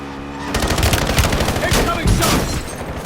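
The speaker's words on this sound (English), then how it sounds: "Incoming shots!" Rapid automatic gunfire rattles loud and close in Call of Duty Warzone on Verdansk, bursts running almost continuously with a short lull, over faint game voice lines.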